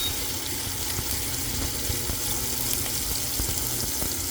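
Onion and garlic frying in margarine in a pan, a steady close hiss and crackle of sizzling that runs unbroken throughout, with no talking.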